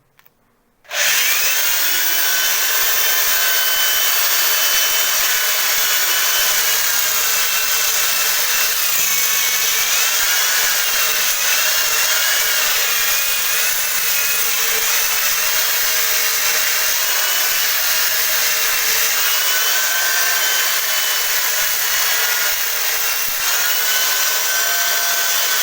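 A drill machine running as an angle grinder sands down an expanded, swollen wooden door, a loud continuous high-pitched whine with abrasive rubbing that starts abruptly and holds steady for the whole stretch.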